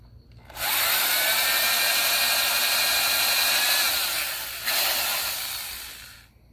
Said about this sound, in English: he's going to pre-drill with a bit that's smaller than the screws.